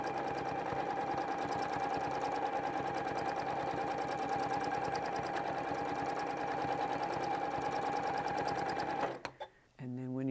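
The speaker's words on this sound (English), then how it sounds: "We just start sewing." A Janome 9410 sewing machine runs steadily during free motion quilting, its fast rhythmic needle chatter continuing evenly and close before it stops, followed by a brief voice.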